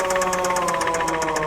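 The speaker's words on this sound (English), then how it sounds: "So you hear that cranking noise?" A damaged car engine with a wrecked crankshaft and main bearings cranks over with a steady, loud, rapid knocking rhythm, metallic clatter repeating about every tenth of a second against a constant droning hum.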